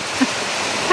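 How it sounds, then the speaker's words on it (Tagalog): Heavy rain pours on a hut in a sweet potato field, a dense continuous rushing wash filling the short stretch with a couple of faint tonal blips over it. "kasi bigla nang lumakas yung ulan"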